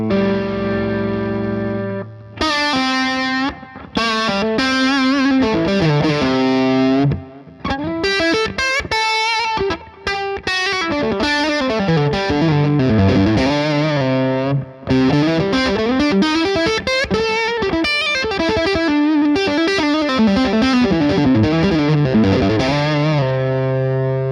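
Overdriven electric guitar through a PRS Sonzera 50 tube combo amp plays bluesy riffs and sliding bends, gritty and loud, with brief pauses between phrases and no voices.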